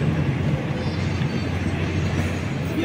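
A feeder train running between Bandung and Padalarang rumbles at the station, a steady low rolling drone of wheels and motors heard fairly close with no one speaking.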